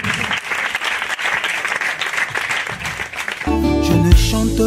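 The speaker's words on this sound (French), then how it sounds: "Je veux qu'on acclame le Seigneur pour ça." A church congregation claps loudly in praise, a dense wash of applause that gives way to keyboard music and chords near the end.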